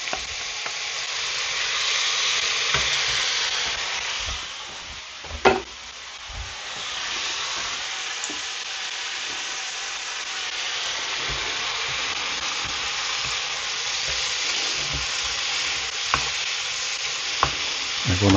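Onion and mushrooms sizzle steadily in a frying pan for a meatball mushroom sauce, a loud continuous hiss with occasional stirring clatter and a clunk partway through.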